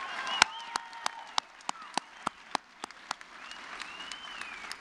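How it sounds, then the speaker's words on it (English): Scattered, sparse hand claps ring out at an adult high school equivalency graduation honoring faculty and staff: a small number of distinct, sharp claps in a loose, uneven rhythm over a quiet room, with faint tonal sounds in the background. "Let's give them a round of applause"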